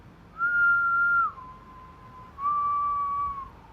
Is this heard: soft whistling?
yes